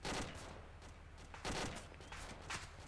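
Gunfire crackles in ArmA 2, a sniper among the shooters, with repeated sharp shots and bursts spaced irregularly, fairly distant and faint over a low background rumble.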